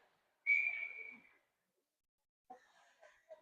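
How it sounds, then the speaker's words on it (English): A referee's whistle at a hockey game gives one sharp, slightly wavering blast that fades over about a second, followed later by faint breathy, fluttering bits of sound in a quiet setting. "We got a whistle for something."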